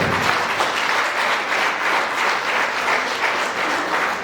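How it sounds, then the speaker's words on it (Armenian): Audience applause at a live concert, a dense, steady clapping from a full hall that holds at an even level throughout, with no voices on top. "Ծափահարենք"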